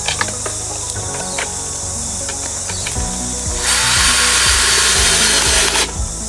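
A power drill driving screws to fix a possum trap to a tree outdoors, rising in short whirring bursts with woody creaks, then one longer loud whine near the end, close by and alone.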